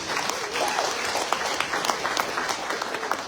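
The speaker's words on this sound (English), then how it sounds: "Let's give him a round of applause." A round of applause welcomes the mayor at an oath-taking and Christmas in July event in Dalby, with loud, continuous crowd clapping and scattered sharp claps, plus voices faintly mixed in.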